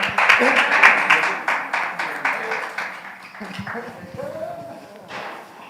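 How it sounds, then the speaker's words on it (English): A youth group meeting audience claps along in a fairly rhythmic burst that loosens and fades into scattered claps, with voices talking and cheering underneath. "Let's come on, clap it up for Gino"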